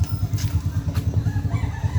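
Chickens on a small poultry farm clucking in a steady rapid rhythm, close and fairly loud, with a few higher calls rising over the flock.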